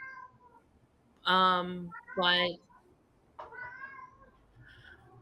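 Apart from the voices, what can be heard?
cat meowing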